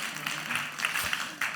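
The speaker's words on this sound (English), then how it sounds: "Give yourself a round of applause." Faint, distant clapping from a seated audience at a talk on innovation, a brief soft patter of many hands with no clear voices over it.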